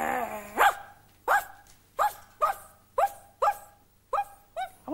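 A person imitating a dog barking, giving about nine short, loud woof-like barks in an uneven rhythm with brief gaps, close to the microphone and with no other talk.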